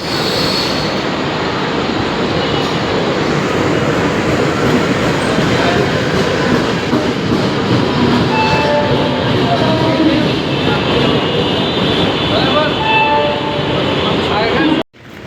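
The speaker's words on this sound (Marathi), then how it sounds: "आपण ट्रेनचा प्रवास चालू होईल आता." A Mumbai local train near Borivali rolls along with a loud, continuous rumble and rattling wheel noise for about fifteen seconds, cutting off abruptly at the end.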